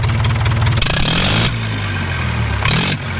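A Mahindra 575 DI Bhoomiputra tractor engine revs hard, a loud, close, rough mechanical roar that rises and then settles into a steady running drone, with a brief surge near the end and no talk.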